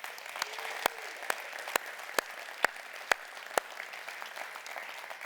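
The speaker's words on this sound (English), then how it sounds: "can you give a round of applause for all of our city employees?" An audience at a Bartlett State of the City address applauds the city employees, a steady, moderate wash of clapping with several sharp, distinct hand claps standing out at a regular pace throughout.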